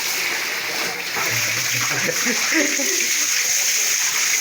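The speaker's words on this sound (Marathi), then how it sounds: "हे गंगे गायमुखातलं पाणी आहे" Water of a sacred Ganga spring pours steadily from a cow-mouth spout at a temple tank, a continuous rushing spatter with a low voice murmuring underneath.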